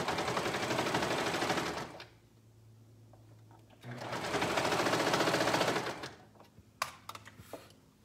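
A sewing machine stitches a stretched neckband onto a garment in two loud, steady bursts of rapid needle chatter, separated by a quiet pause and followed by light handling clicks.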